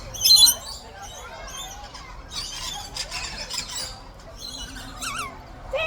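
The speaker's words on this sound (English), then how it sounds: "don't be leaving your bird back here for me" Birds at Busch Gardens squawk and squeal in shrill, broken bursts, fairly close, with brief chirps scattered between louder cries.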